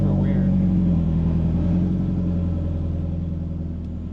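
A Nissan S14 fitted with an HKS muffler idles with a steady low, throbbing engine drone heard from inside with the windows up, fading slightly toward the end.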